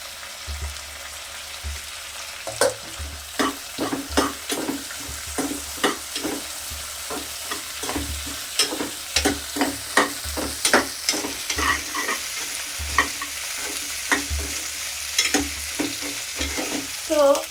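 Onion and chillies frying in a pan, a steady sizzle broken by frequent sharp scraping stirs of a spatula, close and fairly loud, with no talking.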